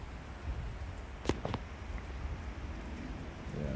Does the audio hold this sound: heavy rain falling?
yes